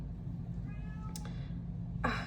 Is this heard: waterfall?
no